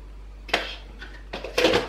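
A spoon scrapes and clinks against a bowl while creatine powder is stirred into yogurt, giving short bursts of close, soft scraping with small pauses between them.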